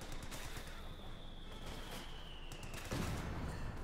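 Light machine gun fire in a World War II multiplayer shooter match, a dense continuous rattle of bursts with a heavier thump near the end, moderately loud and steady throughout.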